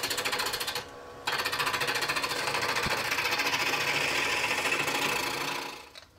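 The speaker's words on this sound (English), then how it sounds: "using a 3/4 roughing gouge and roughing it to round and then bringing it slowly down to its final dimension" Wood stock spinning on a lathe while a 3/4 roughing gouge cuts it round, producing a fast, buzzing, chattering rasp that pauses briefly, resumes steadily, then tapers off at the end.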